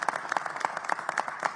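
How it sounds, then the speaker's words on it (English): Audience applause during a city press briefing on a snow emergency in Philadelphia: faint, rhythmic clapping from a few hands with evenly spaced beats, fairly distant. "Let's give them a huge round of applause."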